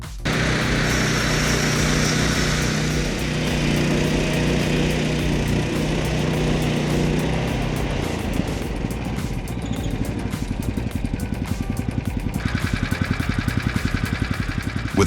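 A CTR 750GX Mobile gas-engine log saw for cutting 75-centimeter logs runs steadily and loudly throughout, its engine drone shifting to a rougher, pulsing tone partway through as the cut continues.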